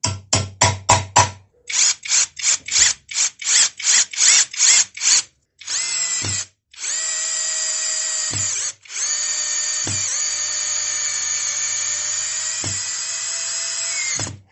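A compact cordless drill-driver sets a screw into hard wood, first in a rapid series of short trigger bursts, then in longer sustained whines under load that end with sharp stops, close and clear.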